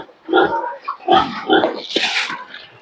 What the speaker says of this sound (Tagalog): Kawawa naman yung mga baboy ko na kanina pa nang hihingi.